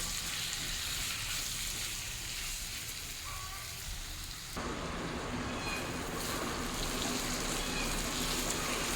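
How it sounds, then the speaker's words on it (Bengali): Chopped tomato frying with ginger and garlic in a pan over low flame gives a steady, rain-like sizzle, with a louder, denser crackle about halfway through that then holds evenly to the end. "টমেটো কুচি দিয়েও ভালো করে ভাজতে থাকবো।"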